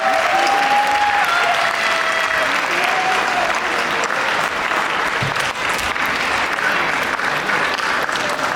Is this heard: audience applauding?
yes